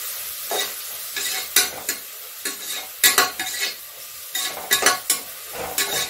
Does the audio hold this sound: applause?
no